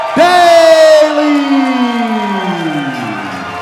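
A roaring crowd in a Pittsburgh boxing arena in the Pinnacle Boxing 3 video game, with a loud whooping, siren-like drawn-out cheer swelling at the start and slowly sliding down and fading over several seconds.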